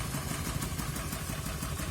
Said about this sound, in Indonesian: itu mesinnya hidup